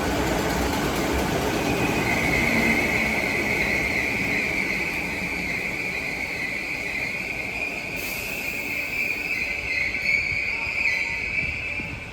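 A train near Liverpool James Street station rumbles steadily along the track with a constant broadband roar and a sustained high whine, loud and close throughout.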